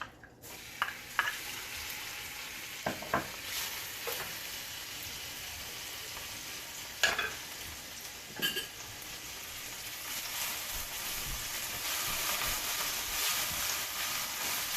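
Garlic fries in a little oil in a pan for Ethiopian-style chicken fried rice. A soft, steady sizzle builds gradually and is broken by a few utensil taps and scrapes near the pan.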